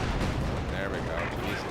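Unit gunfire and artillery rumble from the video game Company of Heroes 2, a dense, loud booming wash of battle noise with overlapping shots and someone talking over it.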